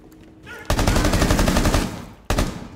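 Rapid automatic gunfire in Rainbow Six Siege, shooting through a wall on the Consulate map in Terrorist Hunt, loud bursts of fast repeated shots that break off briefly and then resume, close to the listener.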